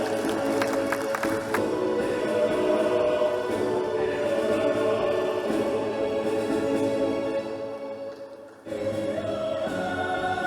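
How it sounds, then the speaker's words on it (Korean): A stadium audience at the opening ceremony of the 102nd National Sports Festival in Gumi, Gyeongbuk, applauds two child torchbearers from a youth choir, a dense, steady wash of clapping and crowd noise with music beneath, dipping briefly before resuming. "박수로 환영해 주십시오"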